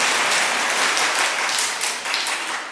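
A church congregation at a Korean mission church fills the hall with dense, steady applause and cheering, loud and close, tapering slightly toward the end without any speech.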